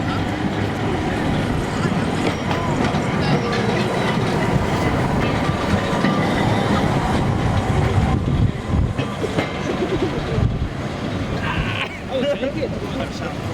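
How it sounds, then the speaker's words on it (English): A specially built illuminated night tram at the Blackpool Illuminations rumbles along rails with rattling clatter and road noise, while a voice talks over it throughout. "And another specially built nighttime illuminated tram."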